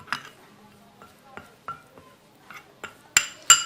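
A rose water and turmeric face mask is mixed in a bowl, making sparse soft scrapes and taps, followed by two sharper clinks near the end, close and quiet, with no voice.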